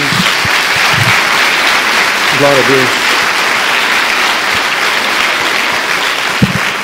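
A church congregation claps for Jesus during a sermon, steady massed applause throughout, with a voice speaking briefly over it.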